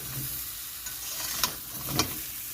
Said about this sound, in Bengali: নুন দেওয়ার পরে একটু আমটা ভেজে নিতে হবে এরকম করে।